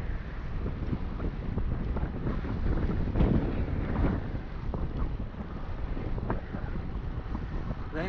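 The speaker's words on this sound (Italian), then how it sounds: "Vento gelido," Icy wind roars across the microphone during a descent from the Passo Gavia mountain pass in the Italian Alps, a loud, steady blustering rush with gusts that swell and ease throughout.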